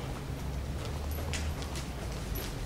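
Horse hooves striking an arena surface while the horse is lunged on a circle, a steady repeated clip-clop rhythm of footfalls heard at moderate distance over low background rumble.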